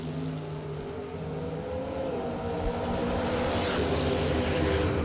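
Drag racing cars at a bracket race, a Mopar and a Ford Fairmont staging side by side, engines rumbling loud and close with rising revs, no voices.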